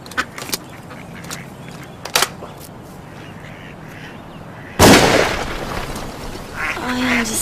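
Ducks quacking during a duck hunt, scattered faint calls early on, then a loud sudden blast like a gunshot around midway followed by a lingering rush and a few more quacks.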